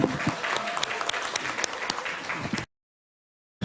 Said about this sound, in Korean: 큰 함성과 박수로 맞이해 주셨으면 감사하겠습니다